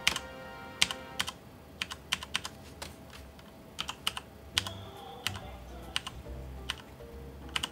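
Keys on a computer keyboard tapped in an irregular pattern of crisp, close clicks, with some short clustered runs.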